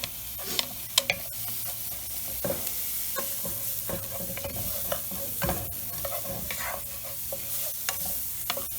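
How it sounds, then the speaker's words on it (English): Garlic and onion sizzle and fry in a soup pot, a steady close crackle broken by scraping stirs of a utensil against the pot, with no talk. "We're just going to cook that down until the onions get a little bit translucent."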